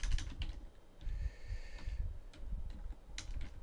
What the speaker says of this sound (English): and you're going to type in the county